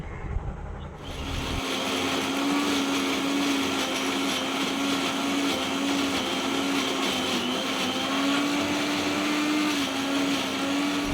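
A blender grinds fried onion, tomato and boiled spinach into a smooth paste for palak paneer, starting up after a second and then whirring loudly and steadily at close range with no voices.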